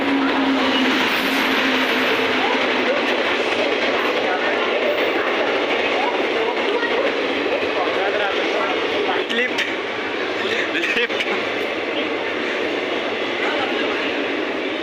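A passenger train on a Raigarh to Visakhapatnam route runs with a steady, loud rolling rumble and roar that fills the whole stretch, the level never letting up.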